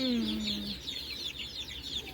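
Hens in a backyard flock kept for eggs cluck softly in a quick repeated patter, and one brief, lower call rises over it at the start.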